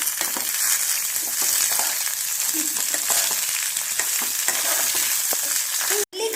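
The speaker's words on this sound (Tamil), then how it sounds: "நம்ம எடுத்து வச்சுருந்த நெல்லிக்காயும் போட்டு நல்லா வதங்க விட்டுக்கலாம்" Gooseberries sauté in oil in a pan for a thuvaiyal, a continuous loud sizzle with occasional stirring scrapes and a sharp clatter near the end.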